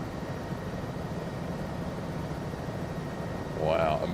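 Helicopter engines in Microsoft Flight Simulator 2024 during formation flying over Puerto Rico, a steady rotor and engine drone throughout with a brief tonal sweep near the end.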